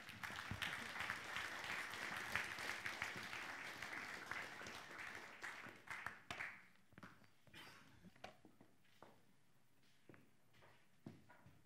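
An audience at a panel discussion applauds, giving a moderate round of clapping that fades after about six seconds into scattered single claps and faint rustling.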